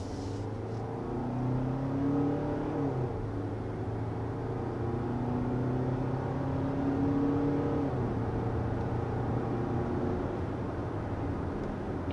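Steady drone of a 2023 Hyundai Tucson hybrid under smooth acceleration, heard from inside the cabin, with a low engine hum and gently rising, falling tones held at an even, moderate level throughout and no talk.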